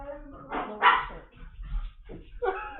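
A puppy gives a few short, close barks and yips in separate bursts, with a person talking quietly in the background between them.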